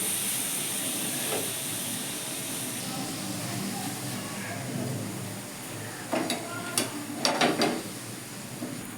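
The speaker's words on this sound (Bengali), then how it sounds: "এই যে ফুটছে" Steady steamy hiss of water boiling in a pan for aloo kulcha dough, with a few louder clatters and bubbling bursts toward the end.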